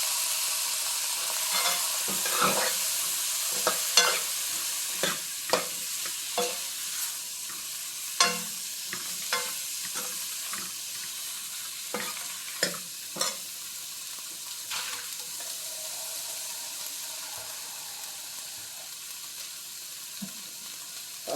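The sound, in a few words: brinjal added to pan, frying and stirring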